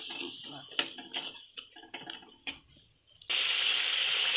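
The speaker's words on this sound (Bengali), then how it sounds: "এবার ভালো করে মশলাটা কষে নেবে" A utensil scrapes and clinks against a pan while spice masala is stirred and fried, a few sharp knocks and scrapes, then a sudden steady hiss rises and holds to the end.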